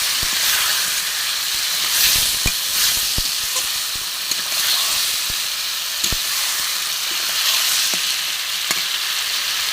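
Marinated mutton and a splash of water hit a hot pan for a light Bengali goat curry, giving a loud steady sizzle and hiss throughout with scattered clicks of stirring.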